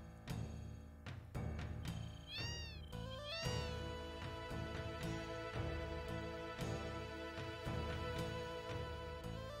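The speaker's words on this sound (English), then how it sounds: "That's a lot of cats. This is cat house." Cats meow repeatedly in the Wutai cat house of the video game Final Fantasy VII, with rising and falling meows layered over looping game music and no talking.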